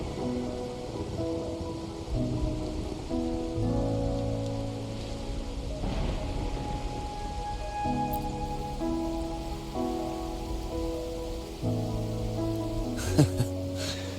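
Steady rain falls across a scene in the video game Wuthering Waves, a soft continuous patter heard beneath layered music, with a brief brighter splash near the end.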